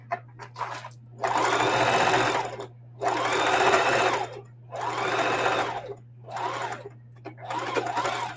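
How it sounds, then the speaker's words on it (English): Sewing machine double stitching a denim bag made from upcycled jeans, running in five close, steady bursts of whirring stitches separated by short pauses, over a constant low electrical hum. "So now I'm just going to turn it over and double stitch it"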